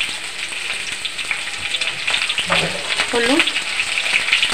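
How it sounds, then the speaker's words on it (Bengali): Pumpkin frying in a spice tempering with salt and turmeric, a loud, dense, steady sizzle up close, with a brief spoken word over it. "একটুখানি ভেজে নেবো।"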